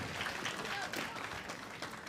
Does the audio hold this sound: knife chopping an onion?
no